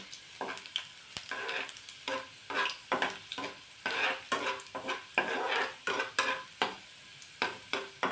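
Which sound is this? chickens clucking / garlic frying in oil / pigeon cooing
garlic frying in oil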